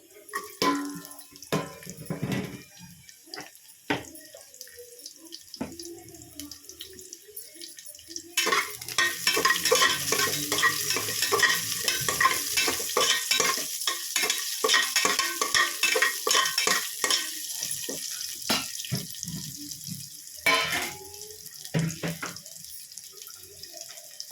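Green chillies, garlic and onion being stirred and fried in oil for a hyacinth bean sambar, starting with scattered scrapes and clinks, then a loud, dense, continuous sizzle with stirring scrapes through most of the stretch.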